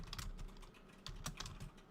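A computer keyboard being typed on in a small home office, quick irregular key taps at moderate volume over faint room hum, with no speech.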